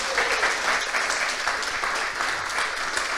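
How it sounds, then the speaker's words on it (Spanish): Audience applause at a startup demo day presentation, steady dense clapping throughout at a consistent level, with no voices over it. "le pedimos un fuerte aplauso para Joaquín"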